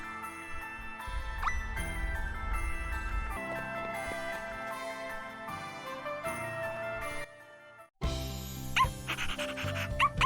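A small pup dog in the role-playing game Bravely Default 2 yips and barks briefly over a twinkly game music score, faint against the music, with a sudden jingle and scene change near the end.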